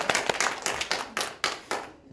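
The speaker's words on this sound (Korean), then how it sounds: "자, 일단 박수 한번 드릴까요?" A church congregation at a Sunday worship service claps in a brisk, regular rhythm, sharp individual hand strikes that repeat quickly before tapering off toward the end.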